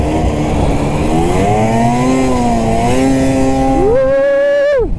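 A 2-stroke snowmobile engine revs loud and close, its buzzing pitch climbing and dipping across several throttle swells before surging high in a final acceleration and cutting off abruptly.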